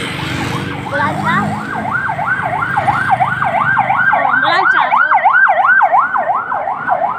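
A police siren wails loudly and nearby, cycling up and down in a fast, regular sweep. People in a vehicle speak briefly over it.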